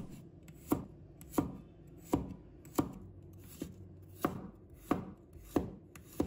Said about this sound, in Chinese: 接着我们准备1把大蒜，把它切成片。